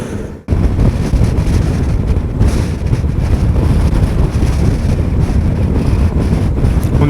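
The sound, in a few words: strong wind blowing on the microphone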